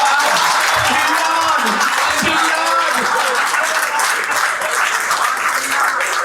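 Steady, dense audience applause at a Hindi comic poetry recital, loud and close, sustained throughout with a few low voices audible beneath the clapping.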